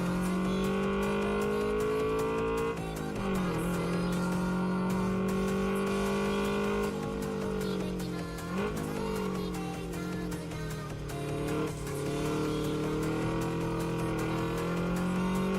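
An Audi A6 on drift tires in the racing game Redline Reverie revs hard, its engine note rising and falling through gear changes while the tires slide and squeal steadily through corners, loud and close throughout.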